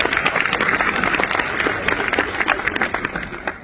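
A gathering at an event in Aix-en-Provence claps together, a brisk, fairly close applause of many hands that fades slightly toward the close, with no voices heard.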